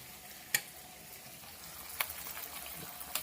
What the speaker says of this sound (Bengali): এবার ভালো করে পেঁয়াজটা একটু লাল লাল করে ভাজা হোক